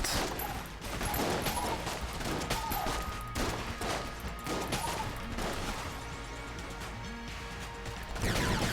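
Rapid gunfire in Enter the Gungeon rattles along in a dense, fast stream of small shots under a steady game soundtrack, fairly quiet and continuous, with no talking.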